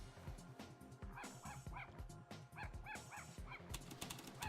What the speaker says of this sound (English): I hear the sound of a dog barking somewhere.